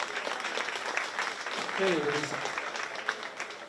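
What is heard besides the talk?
applause at a county fair swine show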